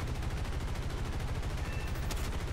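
Aircraft machine guns chatter in a dense, continuous rapid burst during a War Thunder dogfight between an F2A and a LaGG-3, loud and close, with no talk over it.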